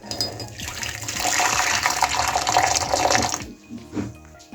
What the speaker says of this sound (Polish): wlewamy do niego gorącą wodę